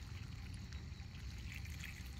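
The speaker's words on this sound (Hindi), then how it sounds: "बगान में प्याज को पानी दे रहे हैं" Water pours steadily onto onion beds in a home garden at dusk, a quiet continuous trickling stream with a low background rumble and no talking.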